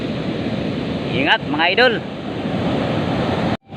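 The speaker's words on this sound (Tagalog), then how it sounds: "Nasa 3 metro yung alon." Large ocean waves around three metres high crash and roar continuously with heavy wind noise on an overcast day, while someone talks briefly over the surf before the sound cuts out abruptly near the end.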